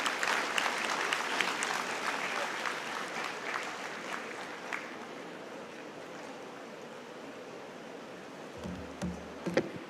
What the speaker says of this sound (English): A warm round of applause once again for Honorable Chief Justice Retired N.V. Ramanna